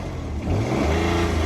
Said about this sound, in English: Yeah, rev it up.